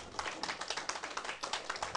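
An audience at a political lecture claps in a quick, fairly even burst of hand claps lasting about two seconds, moderately loud with no talk over it.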